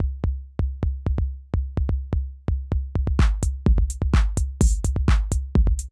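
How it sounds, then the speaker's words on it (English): A pitched-down 808 low tom sample plays a deep, subby bassline of repeated booming hits in an uneven rhythm, with crisp percussive clicks joining over the second half. "This time I'm using 808 tom low samples from Mars."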